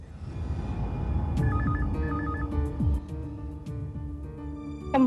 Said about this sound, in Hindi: फोन उठाइए सिमरन जी